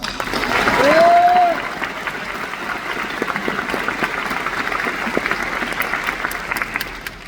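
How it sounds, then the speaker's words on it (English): Applause from a high school graduation audience for a teacher, a broad, sustained wash of clapping filling the hall, with a brief cheer early on before the clapping carries on evenly. "If we could give him another round of applause"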